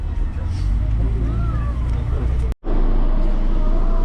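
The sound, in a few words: bus driving into the Praid salt mine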